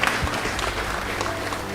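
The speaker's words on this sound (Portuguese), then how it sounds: "dá uma salva de palmas para o Pai, dá uma salva de palmas para o Filho e para o Espírito Santo de Deus" Church congregation applauding during a worship service, steady dense clapping from many hands, fairly close and continuous, with a faint voice underneath.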